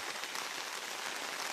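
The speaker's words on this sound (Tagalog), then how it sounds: "Super ulan talaga dito guys" Heavy rain pours steadily in Butuan, a dense, even hiss of drops hitting surfaces close by, with no voices.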